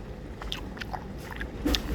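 Close chewing of beef and rice noodles, soft wet bites and mouth sounds at a moderate level, with no talk.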